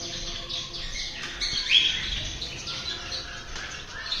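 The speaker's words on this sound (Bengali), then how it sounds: "আর বেঙ্গলি ফিঞ্চগুলো এইভাবে আছে।" Bengalese finches in a colony cage, thin high chirps and tweets scattered through steady indoor hum, with one brighter call standing out midway.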